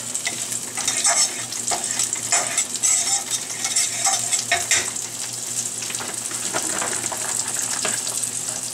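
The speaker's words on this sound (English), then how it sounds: "And we're just quickly sauteing those in hot butter" Peas sauté in hot butter in a pan, a close, continuous sizzle with bursts of louder crackling and scraping as they are stirred, with no voices.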